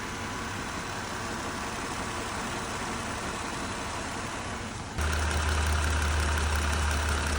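A Jeep Wrangler JL's 3.6L Pentastar V6 idles steadily at 70,000 miles, with a dense mechanical rattle and faint ticking from a loose rocker arm bearing; partway through the hum shifts lower and grows slightly louder.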